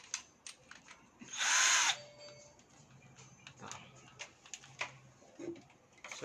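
A Vanderbilt cordless drill spins up loudly for a short burst while driving a screw into roughly half-inch wood, then falls away to light clicks and handling noises.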